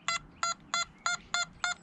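A Nokta Mini Hoard metal detector gives six short, evenly spaced electronic beeps, bright buzzy tones repeating about three times a second, close and clear over a faint background hiss.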